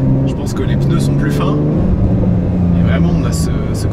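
A lighter, narrow-tyred Porsche sports car engine hums and rumbles steadily throughout, a sustained low drone with rising and falling tone, heard from the cabin with talk over it.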